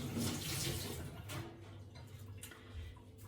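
Tap water runs steadily into a sink as hands are wet before shaping a sourdough loaf, a continuous close splashing wash that eases slightly toward the end.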